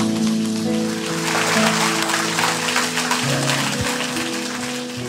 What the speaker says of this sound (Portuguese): Se é para aplaudir, aplauda com vontade